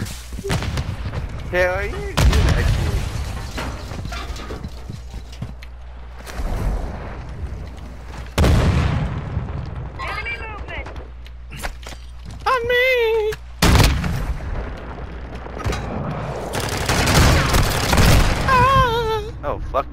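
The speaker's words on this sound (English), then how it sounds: "I was unaware you could shoot a shotgun underwater" Shotgun blasts in an underwater video game level fire in loud, sharp broadband bursts, several spaced shots across the span, mixed with game effects while someone talks over them.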